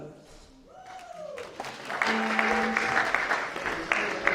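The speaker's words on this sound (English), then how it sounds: "So can we just give another round of applause to Mr. Congo?" Audience applause at a UK Congolese youth award ceremony, rising from a quieter start into sustained dense clapping that fills the room, with a voice speaking over the opening moments.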